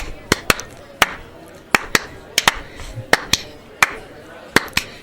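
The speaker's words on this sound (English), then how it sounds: "I'm going to syncopate clap while you do that." Sharp, isolated hand claps in a syncopated, uneven rhythm, about a dozen strikes spread across five seconds, close and fairly loud over a quiet background.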